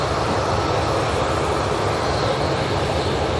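A Ryanair jet departing Manchester Airport for Bologna, its engines giving a loud, steady broadband roar that holds constant throughout.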